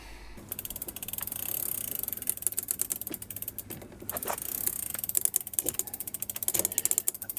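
Cargo bike drivetrain ratcheting as the rear wheel freewheels, a rapid run of close, crisp mechanical clicks that comes in bursts and speeds up and slows with the spinning, loud and up close with no talking.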